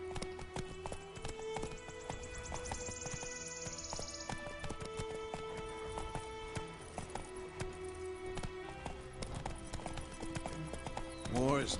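Horse hooves clip-clop at a steady gallop in the Witcher 3 video game, with game music playing and a voice talking over the hoofbeats throughout.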